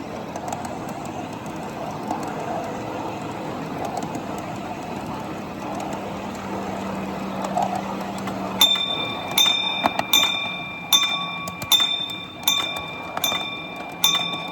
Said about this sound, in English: One of the most interesting trains on this layout.